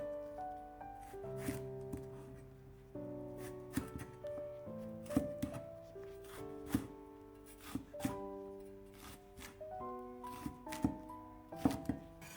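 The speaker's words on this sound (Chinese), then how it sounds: "然后将白菜帮斜刀切成片儿" A knife slices napa cabbage stems on an angle against a cutting board, giving a steady series of crisp chopping thuds at an unhurried rhythm, close and clear with no voices.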